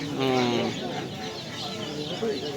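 Native duckling calls sound at a market sale of young domestic ducks, with small, high, repeated peeping near the start and again toward the end over a busy, noisy background.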